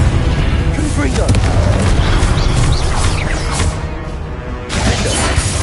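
Confringo explosive spell blasts in Hogwarts Legacy combat, loud and booming, packed into a dense, continuous wash of battle effects with a brief dip in intensity near the end.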